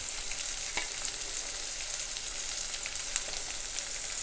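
Ginger, garlic, a cinnamon stick and cloves sauté with onions in a pan. The result is a steady, bright sizzle, close and even, with a few soft clicks and no talking.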